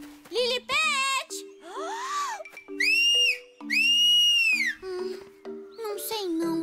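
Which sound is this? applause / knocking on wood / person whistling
person whistling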